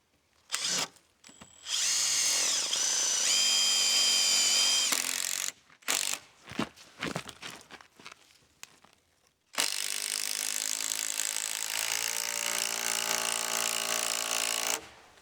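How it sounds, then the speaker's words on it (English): A power drill drives heavy structural screws into wooden boards for a boat shelter, with two long whining runs split by a stretch of short bursts and knocks, close and loud, with no talking. "Then, I fastened them with the beefiest structural screws I had on hand."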